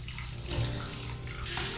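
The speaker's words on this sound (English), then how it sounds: "we are going to fill this with water just until it covers it" Water pours from a tap into a container holding bulgur wheat, a steady splashing fill heard close and alone for a couple of seconds.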